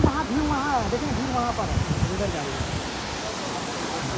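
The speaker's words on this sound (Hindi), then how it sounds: "पूरा पहाड़ों के बीच में ये वाटरफॉल है" Steady broadband rush of the Jonha waterfall in the hills near Ranchi, falling water close and constant throughout, with someone talking over it during the first two seconds.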